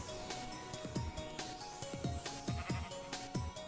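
Minecraft sheep bleating in quick repeated calls, a run of short, nasal bleats over a busy background of game sounds and music.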